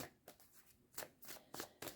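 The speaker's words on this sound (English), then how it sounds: "Just a couple shuffles because I have pre-shuffled them already." Tarot cards are shuffled by hand, giving a rapid series of crisp riffling bursts, about six in two seconds, close and soft, with no talk.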